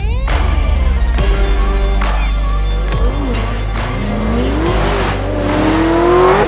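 A 1978 Pontiac Trans Am with a 6.6-liter, 400-cubic-inch engine roars hard and loud, its revs climbing and falling while tires squeal, close and continuous throughout.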